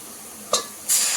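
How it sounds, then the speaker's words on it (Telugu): Onions fry to golden brown in an oiled pan for chicken donne biryani, a steady close sizzle broken by a quick stirring scrape and then a louder, brighter hiss, with no talking. "ఇప్పుడు ఇలా గోల్డెన్ బ్రౌన్ ఫ్రై అవుతున్నప్పుడు మంచిగా ఉల్లిపాయ కూడా గోల్డెన్ బ్రౌన్గా ఫ్రై అయిపోయిందండి"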